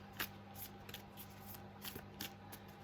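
A new Labyrinth tarot deck is shuffled by hand, giving soft, quiet papery riffles and flicks in short bursts over a faint steady hum, close up with no talking.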